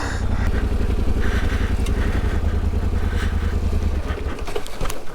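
A big, tall Yamaha adventure motorbike rides slowly off-road through a quarry, its engine a steady, loud low chug throughout with some clatter and occasional light knocks.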